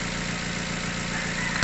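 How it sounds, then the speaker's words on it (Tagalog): The engine of a 2015 Chevrolet Spark with a manual transmission runs rough, idling with a steady shaking, loud and close, after a spark plug lead is pulled from cylinder one. "nanginginig na makina oh"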